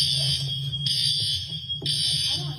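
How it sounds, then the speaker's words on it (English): A building fire alarm sounds in loud, harsh blasts, one continuous tone broken by a brief gap and restarting, steady and close with no voices over it. "Pull the fire alarm?"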